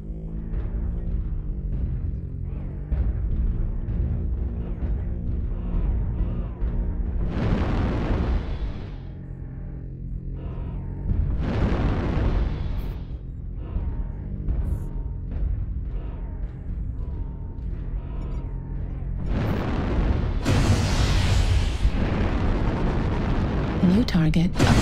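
Airstrike explosions in the mech combat game MechWarrior Online, heard as several loud, broad booming bursts spaced a few seconds apart over a constant mechanical drone and game audio.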